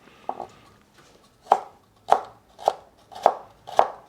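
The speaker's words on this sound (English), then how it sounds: "So I'm going to julienne the carrot" Knife julienning a carrot on a cutting board for vegetable dumplings: a few soft strokes followed by five crisp, evenly spaced chops, close and clear.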